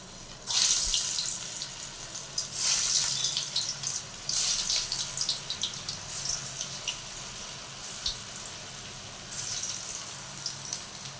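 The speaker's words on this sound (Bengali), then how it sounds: "আমি এখন এক এক করে এই কচুর আলুগুলো ছেড়ে দিই" Pieces of taro corm drop one by one into hot oil in a wok and fry with loud bursts of hissing sizzle, each addition flaring up before settling into a softer crackle.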